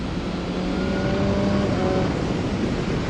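A BMW S1000R motorcycle being ridden, its engine a loud continuous drone with steady pitch and a wash of wind noise, close and uninterrupted, with no talking.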